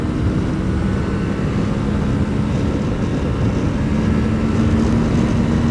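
A Suzuki V-Strom 650 motorcycle pulls away and accelerates, a steady loud engine drone with a faintly rising tone under heavy wind rush throughout.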